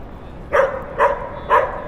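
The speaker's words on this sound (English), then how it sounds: "Oh, look at this dog." Three evenly spaced dog barks, about half a second apart, ring out on a street near the Brooklyn Bridge, moderately close and clear against faint outdoor background.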